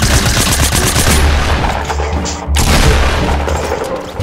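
Shotgun blasts in Fortnite, loud and booming, coming in a dense run of shots close together with a brief gap midway before more firing resumes.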